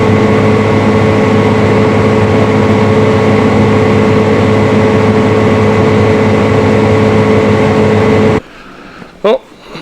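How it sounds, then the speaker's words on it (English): A combine harvester unloading grain runs close, with a loud steady engine drone and mechanical hum throughout most of the clip; it then drops away, leaving quiet background and a brief knock. "then just gotta unload the combine now"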